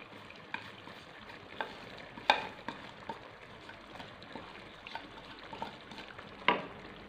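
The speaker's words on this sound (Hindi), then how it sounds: "और इसको अच्छी तरह मिक्स कर देंगे।" Spoon stirring garam masala and crushed black pepper into yogurt in a pan for chicken korma, a steady soft scraping and faint sizzle with a few sharper clinks against the metal, no voices.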